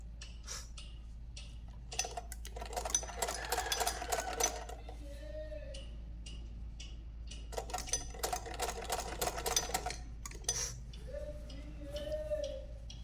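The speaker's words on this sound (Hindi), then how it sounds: "अब ये पूरे में सिलाई देते हुए जाएंगे।" A sewing machine runs a boot stitch along a sleeve with elastic, its rapid ticking needle coming in bursts of a few seconds separated by pauses, close and moderately loud.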